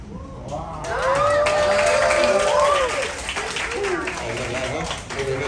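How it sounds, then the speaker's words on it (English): A crowd applauds at an alligator rescue show in the Everglades, a dense burst of clapping and cheers, close and loud, while a performer's voice carries over the top. "Give it a applause"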